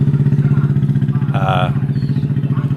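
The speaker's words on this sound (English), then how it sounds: "Oh, we got two bikes with loud pipes." Two motorcycles with loud aftermarket exhaust pipes rumble past in a Philippine neighborhood, a deep continuous throbbing engine note with a brief rise in the middle, fairly close and steady throughout.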